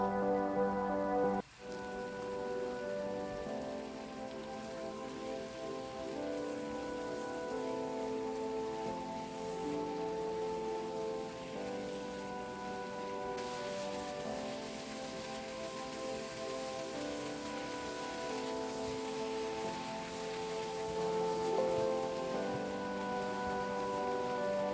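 Liver and cucumber stir fry in a hot wok, giving a steady, dense crackling sizzle like rain on a surface, with a brief clatter near the start and no talking.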